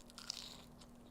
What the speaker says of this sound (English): And we'll take a bite of your kicked up grilled cheese.